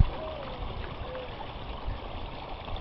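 Water flows steadily through the discharge channel of a battery hazardous waste landfill, a faint, continuous outdoor trickle and gurgle with no talk over it.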